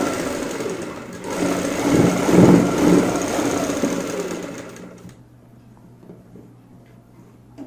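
A sewing machine runs in a fast, steady whir as it stitches palazzo pant fabric, then stops about two-thirds of the way through, leaving quiet room sound.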